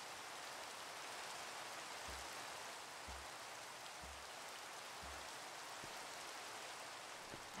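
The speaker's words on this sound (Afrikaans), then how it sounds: "Laat hierdie reën net kan ophou." Rain falling in a castle-building video game, a quiet, steady wash of hiss with a few soft low thumps recurring roughly every second in the middle stretch.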